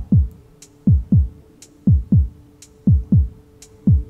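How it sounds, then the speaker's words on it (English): Low-health heartbeat warning in the game Dicey Dungeons, a close, regular lub-dub double thump repeating about once a second, four pairs in all, each pair followed by a faint higher tick. "heartbeat means we are low on health"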